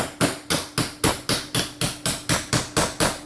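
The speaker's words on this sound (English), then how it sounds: "Take your hammer and your large punch, place it here on the buttstock pin, give it a little tap." A hammer taps a large punch against the buttstock pin of a Kel-Tec Sub-2000 carbine, about a dozen sharp, evenly spaced metallic knocks at a steady rhythm, close and clear with no talk.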